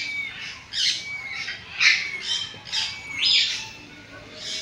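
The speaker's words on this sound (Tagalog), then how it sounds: "Ring-necked pheasant." A caged ring-necked pheasant at a zoo gives a series of harsh, squawking calls, about six evenly spaced bursts, fairly close and clear over a low murmur of background noise.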